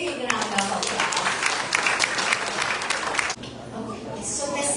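Audience at a Diwali gathering applauds, a dense burst of clapping that fills most of the moment and then drops off abruptly, leaving quieter room sound.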